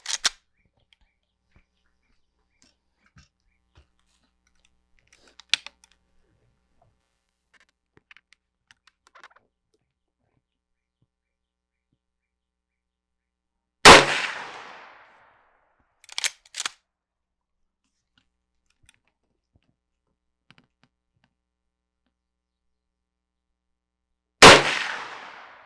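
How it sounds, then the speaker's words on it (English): Rossi R92 lever-action rifle in .30-30 fired at a silhouette target outdoors: two loud, sharp gunshots about ten seconds apart, each with a short decaying tail, plus a brief metallic lever clack between them, with long quiet gaps otherwise. "we're going to take 3 more shots at that center red circle in our"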